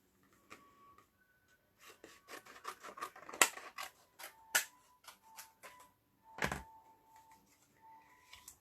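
Scissors snip through a stack of folded paper in a run of short, close crisp cuts with scattered clicks and rustles, a few sharper snaps standing out among quieter gaps.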